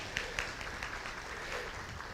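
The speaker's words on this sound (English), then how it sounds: "Let's give him a little round of applause." A meeting audience clapping in a small, faint round of applause, scattered claps blending into a light patter that holds steady for a couple of seconds.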